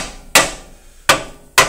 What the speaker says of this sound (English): You can hammer on it on one side.